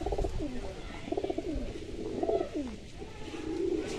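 Pigeons coo repeatedly in a loft, a mated male and female pair among them, with rolling, throaty calls rising and falling close by over a steady background hum.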